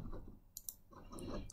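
A computer mouse button clicks on a Next button in dental design software, giving a couple of faint, sharp clicks close together in the middle of a quiet stretch, with no voice.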